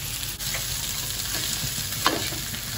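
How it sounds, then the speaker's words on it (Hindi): Taro root (arvi) fries in hot oil in a pan with a constant close sizzle, while a spoon stirs and scrapes through it, including one sharper clink partway through. "इधर अरवी भी हम भून गए"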